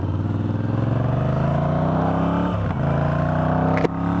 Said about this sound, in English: it's rocking the mighty Motorcycle Works exhaust system on it, and it sounds fantastic